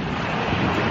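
Wind buffeting the microphone at the seashore, a steady broadband roar with the wash of surf beneath it, loud and continuous with no speech.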